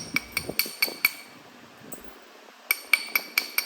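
Florida coral being knapped to bevel an edge, with a run of sharp, bright clinking strikes in quick bursts, a pause, then another rapid series of close taps, no talking.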